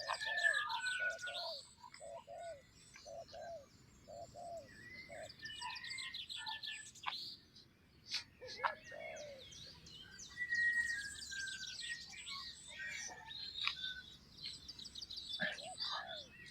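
Birds sing outdoors in a quiet rural setting, with repeated close chirps and whistled calls in short phrases, some soft cooing, and faint background ambience between the calls.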